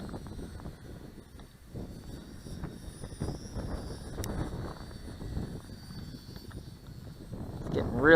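Wind gusts roar and buffet outdoors around a flying four-channel RC airplane. The motor's thin, high whine hangs faintly in the distance beneath a low, uneven rumble.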